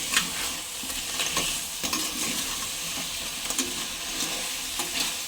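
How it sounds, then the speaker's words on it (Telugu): Crabs stirred into an onion paste in a hot pan for crab curry, a close sizzle broken by repeated scraping and clattering strokes of the spoon. "ఇప్పుడు ఇందులో పీతలు వేసేసుకుని మగ్గించేసుకుందాం"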